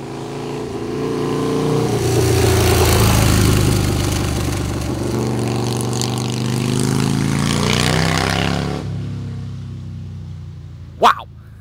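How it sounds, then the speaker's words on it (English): A 2000 Harley Davidson Deuce motorcycle rumbles past in a long drive-by, its deep engine swelling loud as it nears and fading away before a brief sharp sound at the end. "2000 Harley Davidson Deuce drive-by."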